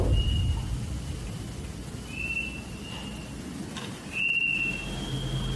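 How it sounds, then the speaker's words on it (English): Thin, high whistling tones come and go inside an abandoned church, drifting in short sustained notes over a low, faint rumble with no voices. "Inside the church, amongst the whistling in the wilderness,"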